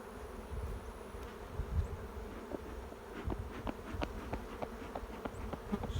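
Honeybees buzz steadily around open hive frames holding brood, a continuous close insect drone with occasional louder passes near the listener, and no one speaking.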